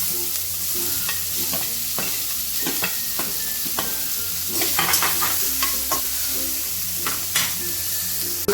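Onion fries in hot tempering oil with asafoetida and curry leaves in a kadhai, a continuous loud sizzle broken by repeated scraping and stirring strokes of a spatula, close up with no voices.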